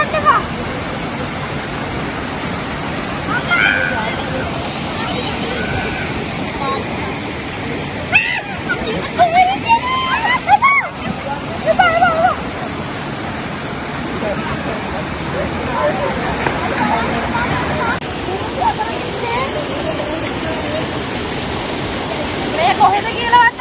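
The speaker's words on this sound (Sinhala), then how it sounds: "ඒ කුමාරි ඇල්ල." Kumari Ella waterfall near Eheliyagoda, a steady broadband rush of falling water throughout, with splashing and voices of bathers talking over it at times.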